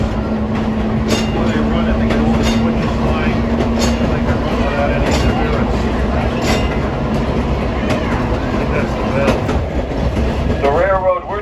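An electric trolley car on the Laurel Line near Scranton rolls along rails, with a loud, continuous rumble, clickety-clack and a steady hum. A voice talks over it.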